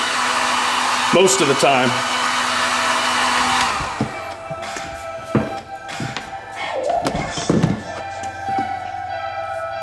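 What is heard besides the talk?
heat gun running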